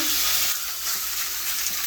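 A large beef roast sizzles loudly as it sears in a hot pan, a steady close crackle and hiss with no voices.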